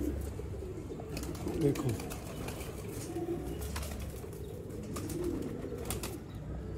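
Flying pigeons coo and flap their wings around a loft, soft flutters and low coos under someone speaking, with a bright wingbeat burst near the middle.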